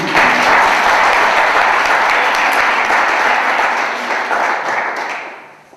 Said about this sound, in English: First, give her an applause.